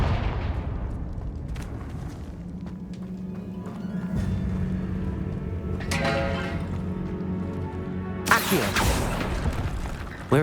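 Confringo fire spell explosions in Hogwarts Legacy, with dull booms and bursts scattered over a low ambient rumble and one sharper, louder blast near the end.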